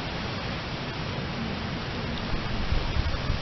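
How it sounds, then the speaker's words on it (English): Heavy rain pours around the Doe River Covered Bridge, a dense, steady outdoor roar that swells slightly toward the end, with no one speaking. "It is actually trying to pour the rain right now on us."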